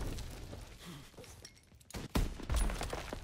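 Rifle fire in a World War era shooter video game, a Lee Enfield bolt-action, with a sharp loud report near the two-second mark and another burst after amid busy game noise and scattered impacts.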